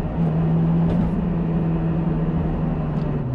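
A Honda Civic Type R EP3 exhaust that runs louder than a stock one, holding a steady, close, droning idle with a low hum for the whole stretch and no talk.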